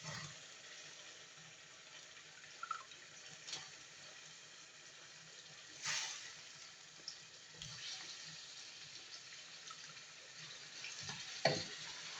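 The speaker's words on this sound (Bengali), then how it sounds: "আমার লাউয়ের মাংসটা নেড়ে নিচ্ছি কিছুক্ষণ" Meat cooking with bottle gourd is stirred in a pan, giving a steady sizzling hiss with occasional louder scrapes and stirring clatters, close and continuous, with no talk.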